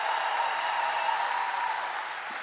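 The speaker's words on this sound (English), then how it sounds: "Can I also get a round of applause for our bus drivers that got us here today?" A large audience at a school district employee convocation applauds the bus drivers: steady, dense clapping that holds evenly throughout, with no voices over it.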